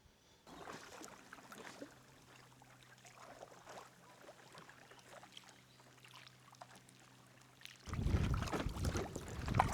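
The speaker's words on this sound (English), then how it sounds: "we'll carry on and have a little bit more of a paddle" Paddle strokes dip into water from a kayak or canoe, soft trickles and drips recurring under a low steady hum, then louder splashing and water churn near the end.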